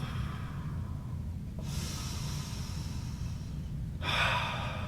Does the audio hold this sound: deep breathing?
yes